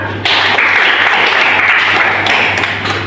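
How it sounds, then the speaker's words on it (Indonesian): An audience at a university teaching session on safety culture applauds in a steady, dense, loud wash of clapping that runs without a break, with no talk on top. "Terima kasih pertanyaannya, tepuk tangan."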